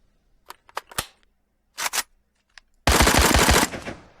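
An AK74M rifle reload in an Unreal Engine game: several sharp metallic clicks and clacks, a pause, then a loud, short burst of automatic fire.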